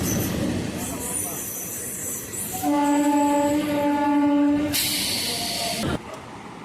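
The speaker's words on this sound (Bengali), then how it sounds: "এখন এই ট্রেনে করে যাবো বর্ধমান" A passenger train bound for Bardhaman rumbles and hisses nearby at a station, its horn sounding a long sustained blast midway, with faint voices beneath the noise.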